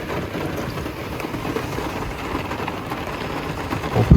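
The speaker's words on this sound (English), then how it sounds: "I'm just sitting here as I'm hearing this rain" Rain falls steadily outdoors in foul hunting weather, an even hissing patter that holds a constant level, with a brief louder knock near the end and no talking.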